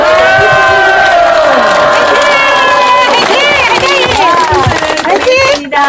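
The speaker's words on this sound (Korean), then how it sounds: "북대구 영성센터 압도적 박수를!" A large indoor crowd cheers, shouts and claps together at a Korean memorial ceremony, a dense, loud, continuous roar with rising voices that tapers off near the end.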